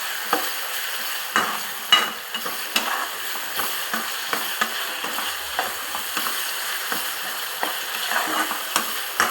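Ingredients frying in a pan until the raw smell cooks off: a steady crackling sizzle throughout, dotted with frequent light scrapes and taps of a spatula stirring, close and continuous, with no one talking.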